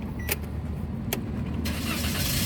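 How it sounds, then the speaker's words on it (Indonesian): A 2016 Toyota Calya 1.2 G automatic is started: clicks of the key and starter, then the engine catches and settles into a steady close idle. "Nah, kita coba nyalakan mesinnya."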